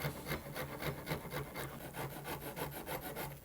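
A facet is carved by hand on a rosewood guitar neck for a Telecaster build: close, rhythmic rasping strokes repeat about a dozen times in steady succession, with no talking.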